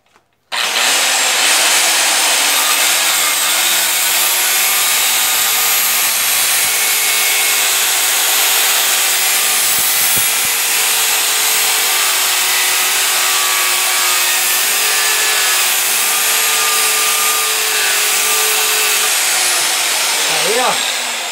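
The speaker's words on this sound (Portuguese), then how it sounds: "Aí eu vou cortar aqui agora com a lixadeira. É meio aço aqui." An angle grinder cuts through steel stock in a home workshop, a loud continuous high-pitched whine that starts abruptly and holds steady for about twenty seconds before winding down at the end.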